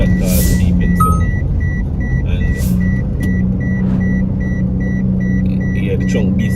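Seatbelt warning chime in a moving car, a repeated high beep pulsing at steady intervals over the constant engine and road rumble, with a person talking nearby.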